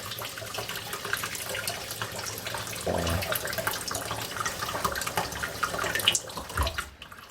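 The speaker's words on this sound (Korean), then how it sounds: "이제 본격적으로 쌀을 씻어 볼 건데" Rice is washed under running tap water in a rice cooker's inner pot, with a steady close splashing flow and sloshing of grains and water.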